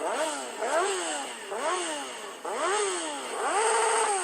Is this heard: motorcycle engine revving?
yes